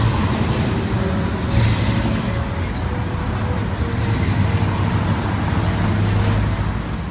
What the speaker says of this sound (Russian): Эта машина, наверное, приехала за гостями или за ведущими программы.